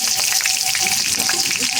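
Meat for a Jaffna-style devilled dish sautés in a pan, giving a loud, close, constant sizzle with small crackles and some stirring throughout.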